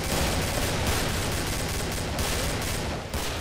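Gunfire in the co-op shooter game Killing Floor comes as a dense, continuous barrage of rapid shots, loud and unbroken for the whole moment with no voices.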